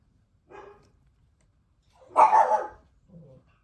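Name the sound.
dogs barking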